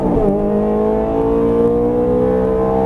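A Ferrari 430 Scuderia under full throttle, its engine holding a loud, steady, close drone with a strong harmonic tone that rises slightly after an early dip, with no talk over it.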